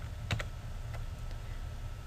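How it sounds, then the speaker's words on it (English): Alt and Enter keys pressed on a computer keyboard, two quick close clicks followed by a couple of fainter taps, quiet and alone over low background hum. "you hold down the Alt key on your keyboard and hit enter"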